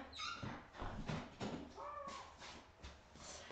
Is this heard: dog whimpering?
yes